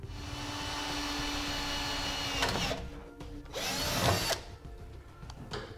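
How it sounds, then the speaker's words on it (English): A power drill bores holes in a steel truck frame while air helper springs are fitted, with a steady whine that breaks into two loud, harsh bursts as the bit cuts through metal. "Do that on both sides while we drill our holes."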